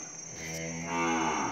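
A single cow lets out a long, drawn-out moo at a cattle trading yard, close and loud, rising in strength toward the end over a steady background hum.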